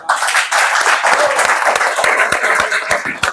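Audience applause at a lecture on Simón Bolívar, a burst of clapping that starts abruptly, holds fairly steady with distinct individual claps standing out, then thins slightly toward the end.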